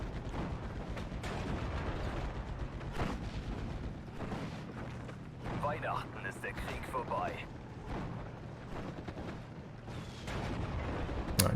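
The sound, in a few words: Bofors anti-aircraft gun fire in Steel Division: Normandy 44 video game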